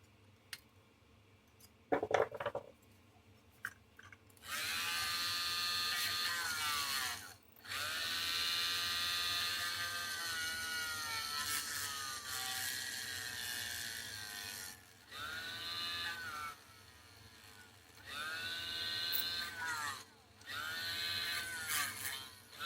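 A small drill working on plastic, part of a vintage 1950s Varney box car model, whirs in several sustained bursts with brief pauses between, a high buzzing whine, close by, with no talking.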